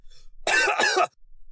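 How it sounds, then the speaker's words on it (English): A single harsh, throaty cough made of two quick bursts, close and fairly loud, with quiet before and after. "a cough that won't quit"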